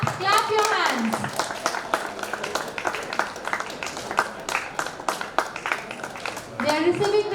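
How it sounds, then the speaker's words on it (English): Students in a school audience at a mathematics quiz prize ceremony clap steadily, a dense, lively patter of many hands sustained throughout, with voices mixed in underneath. "please clap your hands"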